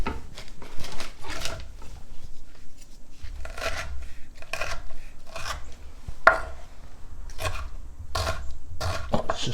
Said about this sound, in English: give this kimchi a nice little chop